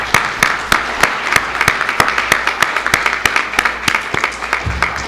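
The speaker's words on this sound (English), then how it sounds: "So let's give everyone a round of applause." Applause after a school debate, with a few distinct hand claps standing out in an uneven rhythm over a softer crowd clapping, close and moderately loud.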